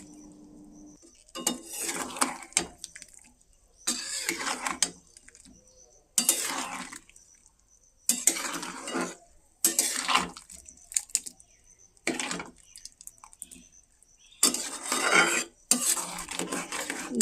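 A metal spatula scrapes and stirs mango pieces in a hot wok for mango pickle, in repeated bursts of clattering strokes separated by short quiet pauses, close up with no talk.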